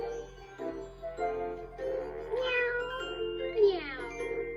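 Kittens meowing in a Mother Goose nursery-rhyme setting, a run of high, wavering mews in quick succession, close and fairly loud, over a steady low hum.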